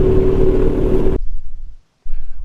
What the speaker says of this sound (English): the bike feels like it's going to go wherever it wants to, but it's tracking very nicely on the Dunlop tires